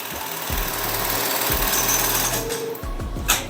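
A Brother BAS 304/311A programmable sewing machine stitches in loud, rapid mechanical bursts, with brief pauses between runs of fast chattering needle strokes.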